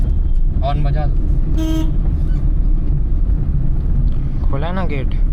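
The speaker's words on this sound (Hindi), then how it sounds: "हॉर्न बजा दो।" A car horn honks at a family's home gate during Diwali celebrations, with a short tone around the middle and a longer, wavering honk near the end, heard over steady engine rumble and background noise.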